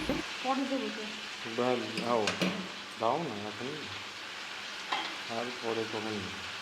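Whole green chillies fry in oil while someone speaks over a soft, continuous sizzle.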